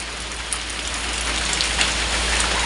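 Heavy rain pouring down outdoors in a rural setting, a dense continuous hiss of drops striking surfaces, close and steady with a few sharper splats, no voices.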